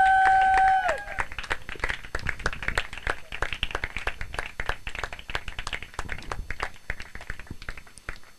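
A church congregation claps and cheers in praise, with dense scattered handclaps and joyful shouts sustained throughout after a brief sung or held tone at the start.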